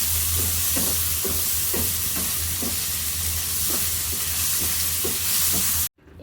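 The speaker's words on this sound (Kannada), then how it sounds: "ಈರುಳ್ಳಿ, ಮೆಣಸಿನ್ಕಾಯಿ ಮತ್ತು ಉಪ್ಪು, ಕರಿಬೇವು ಸೊಪ್ಪನ್ನ ಹಾಕಿ ಚೆನ್ನಾಗಿ ಫ್ರೈ ಮಾಡ್ಕೊಳ್ಳಿ." Garlic, onion, chili, salt and curry leaves frying in a pan give a loud, continuous sizzle with regular spoon strokes scraping through, close by, before cutting off abruptly at the end.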